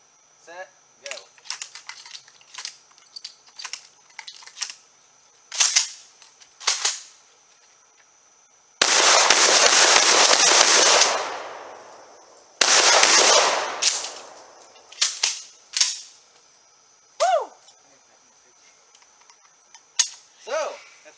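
Rapid tactical shotgun reloads and firing outdoors: quick metallic clicks of shells being loaded and actions cycled, broken by loud, close blasts with long ringing decays, then more clicks.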